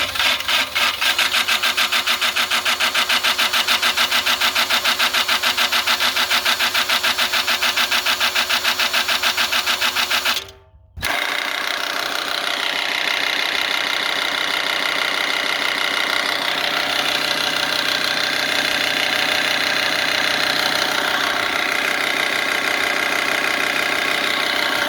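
A drill spins a reel mower's blades backward for backlapping, making a constant loud mechanical whir with a gritty rattle; it cuts out briefly for a moment midway, then resumes steadily.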